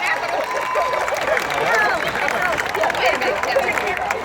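Crowd applause at an outdoor Hometown Heroes ceremony, held during a parade, with dense clapping and murmuring voices filling the whole stretch at a steady, fairly loud level.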